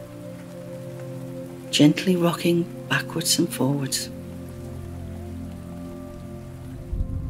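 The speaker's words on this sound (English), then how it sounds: "You notice it started to rain lightly, and you can hear it as it runs down the roof of your porch." Light rain runs off a porch roof in a soft, steady patter throughout, while a calm voice speaks briefly over it.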